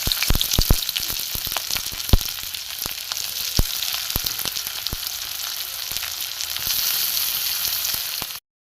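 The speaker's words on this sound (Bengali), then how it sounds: "পেঁয়াজ ভাজা হচ্ছে" Chopped onions and whole cumin seeds fry in a little oil, a close, crackling sizzle with frequent sharp pops and spatters that settles into a steadier hiss toward the end.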